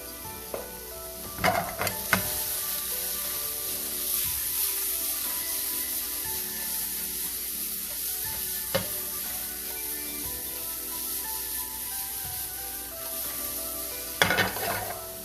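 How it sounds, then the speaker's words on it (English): Food sizzles and sautés in a hot pan in a home kitchen, a steady hiss with a few sharp clinks of a utensil against the pan, no talking over it. "Just let that saute for a second"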